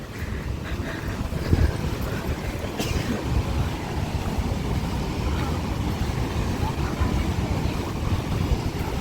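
Wind gusting across a monsoon-flooded beach in Goa, a steady broadband roar buffeting the microphone throughout, with the faint wash of water beneath it.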